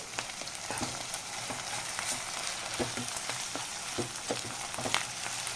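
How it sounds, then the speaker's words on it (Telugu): Onions fry in hot oil with a spoonful of ginger garlic paste added, giving a steady close sizzle broken by light clicks of a stirring spoon, with no talking. "ఆనియన్స్ ఇలా సగం వరకు వేగిన తర్వాత కొంచెం అల్లం వెల్లుల్లి పేస్ట్ ఒక స్పూన్ వేసుకోవాలి"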